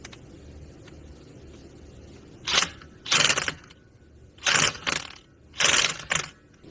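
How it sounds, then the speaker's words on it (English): An impact gun bumps a bolt on the primary gear reduction of a Honda ATV in four short, loud bursts of rattling hammering, set close with brief pauses between them. "We normally just kind of bump it a couple times with our gun on like a medium setting."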